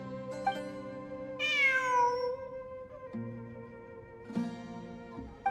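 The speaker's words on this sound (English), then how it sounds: "It really is a cat." A cat in the Genshin Impact video game gives a clear, drawn-out meow, with softer mewing calls after it over a held musical tone.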